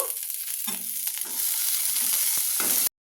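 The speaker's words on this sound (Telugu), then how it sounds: "జీలకర్ర మెంతులు అవి అయితే వేసుకొని అందులోనే కొన్ని నువ్వులు అయితే వేసుకొని మంచిగా కలపాలి" Cumin, fenugreek and sesame seeds being stirred in a hot pan give a close, dry sizzle with scraping stirs, steady for about three seconds before cutting off abruptly.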